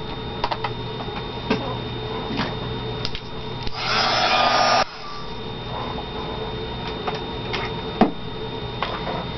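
A hair dryer blows on wet paint in one short, steady whoosh lasting about a second, set among faint taps and clicks in a quiet room.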